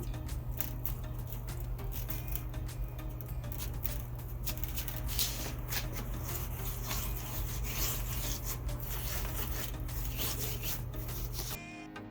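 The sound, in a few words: rubbing salt, lemon pepper and herbs into lamb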